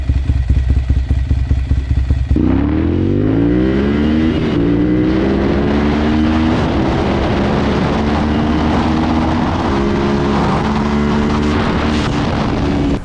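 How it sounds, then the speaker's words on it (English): Ducati 696 Monster sport bike engine and exhaust, loud and close: a choppy, pulsing idle gives way to revs climbing and falling, then a sustained, rough, throaty drone that holds steady. "You have to love the sound of the Ducati 696"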